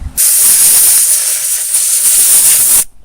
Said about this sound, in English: I was taking the air compressor like this,